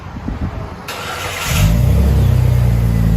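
A 2000 Jeep Cherokee 4.0L engine with an aftermarket Banks exhaust starts and idles with a deep, rumbling exhaust tone, loud and close, holding a steady growl.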